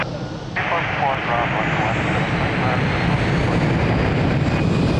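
An airplane takes off at Lisbon Airport, a loud, steady broadband engine roar that fills the whole stretch without a break, with faint voices mixed in.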